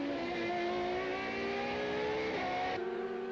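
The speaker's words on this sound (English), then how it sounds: "Race cam action from the Rothmans Audi." Rothmans Audi four-wheel-drive Super Touring race car at Kyalami in 1995, its engine revving hard and climbing through the gears out of a corner, loud and close from an onboard position, steady throughout.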